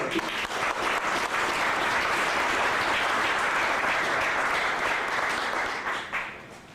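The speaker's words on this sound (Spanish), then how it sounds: "Lo decimos con un aplauso" An audience at a gathering about the 1968 student strike at the Politécnico gives sustained, full applause that holds steady and then thins out near the end.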